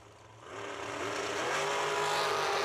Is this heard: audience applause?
no